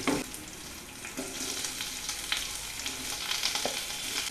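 Garlic and green chili frying in oil over a medium flame with onion added, giving a steady soft sizzle with occasional stirring scrapes, close up and without talk.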